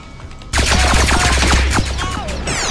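Rapid automatic gunfire in a frantic shooter video game, a loud dense burst of shots over about two seconds, then a ringing tail.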